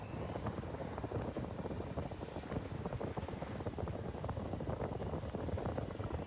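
A Cebu Pacific airliner arriving at an airport gives a continuous, fairly loud jet engine roar that holds steady throughout, mixed with gusty, wind-like noise.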